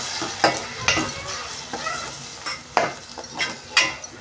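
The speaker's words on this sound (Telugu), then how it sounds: "టమాటా ప్యూరీ అనేది కూడా ఆయిల్లో బాగా వేయించుకోవాలి ఫ్రెండ్స్ ఒకసారి కలుపుకోవాలి" Tomato puree fries in oil in a pan for a spicy egg curry, with a soft steady sizzle under repeated scraping stirs of a spoon against the pan, close and fairly quiet, with no voices.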